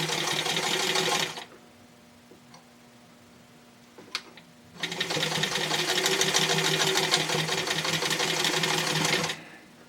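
Sewing machine stitching across a fabric suspender extension to form a pointed end, with a steady close mechanical whir that runs, pauses with a few small clicks, then runs again for several seconds.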